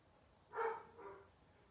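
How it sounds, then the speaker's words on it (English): Dogs barking faintly in the distance: a couple of soft, muffled barks in quick succession over low background hiss. "Sorry about the dogs barking."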